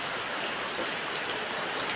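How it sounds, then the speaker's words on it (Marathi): Heavy rain pouring down outdoors, a dense, continuous hissing wash of water that stays loud and even for a couple of seconds with no voices. "बघा पाणी बघा किती पाऊस चालू आहे"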